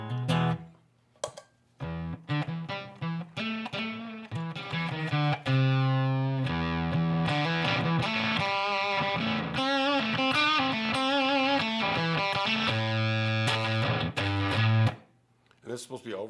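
A Berserker effects pedal pushes an electric guitar into fuzzy overdrive distortion, sustained buzzy chords and riffs played loudly for a long stretch, ending with a short drop-off.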